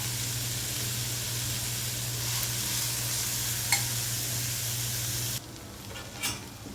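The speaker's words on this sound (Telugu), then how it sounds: "కాసేపు ఇలాగా గరిటతో కలుపుకోవాలి." Cluster beans and onions fry in a pan while a ladle stirs them, a steady sizzle with a low hum underneath and a few scraping clinks, then the sizzle drops off suddenly near the end.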